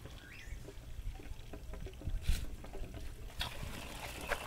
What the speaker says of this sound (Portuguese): Produz esse barulho que é típico da válvula desse fabricante.